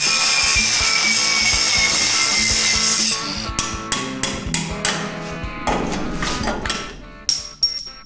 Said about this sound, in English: Claw hammer wins again.